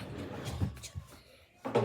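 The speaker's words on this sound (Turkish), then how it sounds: "Ben bir kapıyı açayım bakalım." A door opening indoors, with a few soft thumps and a latch-like click, then a louder knock near the end, heard alone in a quiet room.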